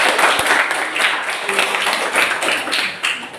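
Indoor audience clapping steadily for a group presentation in a classroom or meeting room, a dense, continuous round of applause that stays loud throughout.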